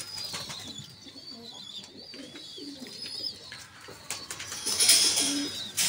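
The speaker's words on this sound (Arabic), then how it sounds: "هاي أمهات الحمام كلها" Pigeons kept in a loft coo softly and repeatedly at close range, with some chirps and a brief flutter of wings.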